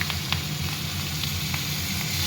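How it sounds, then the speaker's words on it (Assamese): Onions sizzling in a hot wok alongside cumin seeds and dried red chilli, a steady close crackling hiss with small spits and pops throughout, no voices. "এতিয়া মই পিঁয়াজ দি দিছোঁ"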